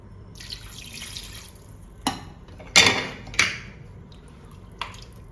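Water splashes into a pan of cooking chicken in several short bursts, with drips and a low background hum, close by and moderately loud.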